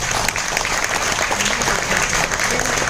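An audience claps throughout a product demo and income presentation, loud and steady, with a voice or two faintly under the applause.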